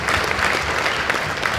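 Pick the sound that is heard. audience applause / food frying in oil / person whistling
audience applause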